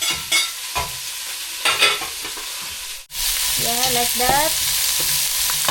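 Meat with onions and garlic sizzles loudly in a hot pan as it is stir-fried, with scraping strokes; after a brief pause the frying hiss swells and stays loud while a voice speaks briefly.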